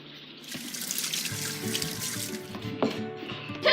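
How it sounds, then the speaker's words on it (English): A kitchen tap runs into the sink during handwashing with soap, water splashing and shifting as hands move under the stream, with a few clatters near the end. "wash your hands. Remember to use soap."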